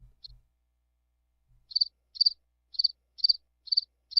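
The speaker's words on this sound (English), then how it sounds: "Ending the day with crickets." Crickets chirp in evenly spaced bursts of rhythmic trilling, about one every half second, fairly close and clear over an otherwise quiet background after a brief low thump at the start.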